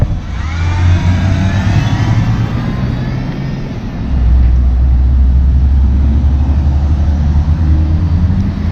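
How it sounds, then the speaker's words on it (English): Cars drive through a roundabout past a yield sign, their engines loud and close. A deeper engine rumble swells in midway and holds steady. "These cars just blowing through the yield sign."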